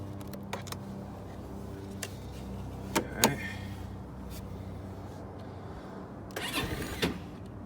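The starter motor of a CFMOTO dune buggy spins once in a brief whirring crank near the end, preceded by faint clicks and a couple of sharp knocks, with no talking.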